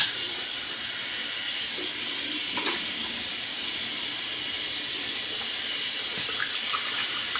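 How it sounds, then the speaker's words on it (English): A steady hiss of water rinses continuously at close range during a straight-razor shave, with faint scraping and taps underneath. "Let's have a rinse."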